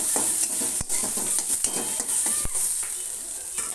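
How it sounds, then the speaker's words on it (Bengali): Cashews and raisins fry in oil in a pan with a continuous bright sizzle, punctuated by sharp clicks and scrapes of a spatula stirring against the metal. "কাজু কিশমিশগুলো একটু ভাজা ভাজা করে নেবো"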